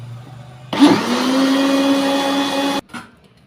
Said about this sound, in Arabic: هنضربهم كويس قوي في الخلاط